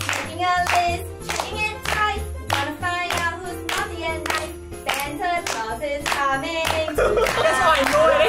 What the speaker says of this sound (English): So clap with me.